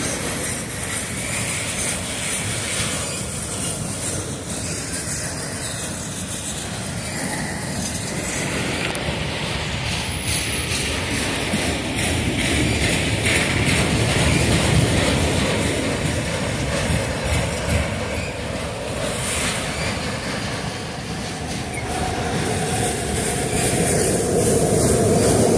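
A freight train led by a Conrail locomotive rolls through the Sylvan Rd grade crossing at Oakland Junction, a loud, continuous rumble and clatter of cars sustained throughout, swelling slightly midway.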